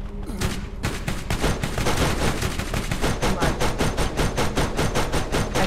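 Rapid automatic gunfire in the video game Borderlands, dense bursts of shots rattling in a fast steady rhythm, loud and continuous after a brief opening volley.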